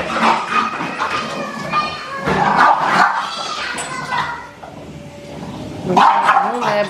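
Dogs fighting over food bark and snarl in a noisy scuffle, with voices talking and children's chatter mixed underneath.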